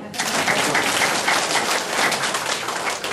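Audience applause at a painting exhibition tea gathering, a full, fairly loud burst of many hands clapping that sustains evenly throughout, with faint murmurs mixed in.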